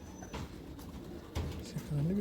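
Soft high-flying pigeon coos, a few low throaty calls near the end, heard over outdoor background noise with some voices.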